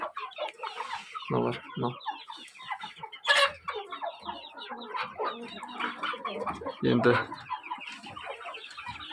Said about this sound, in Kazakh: Мына жерде отырғандар жаңағы ең соңғы шыққан балапандар.